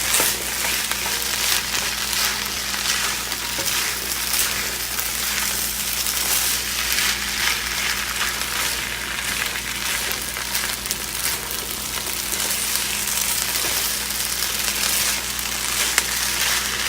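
Onions, butter and garlic fry in a pan for fried rice, giving a dense, steady sizzle that stays loud and close throughout without talk.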